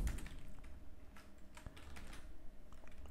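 Computer keyboard typing as a username and password are entered, a run of quick irregular key clicks close by with a low background hum and no voices.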